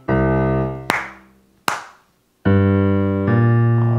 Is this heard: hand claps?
yes